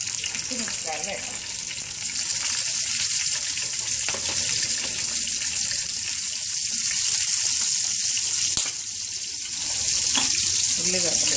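Chillies hit hot oil in a pan already holding seasoning seeds, producing a steady, loud, hissing sizzle with faint crackles and occasional spits that continue throughout.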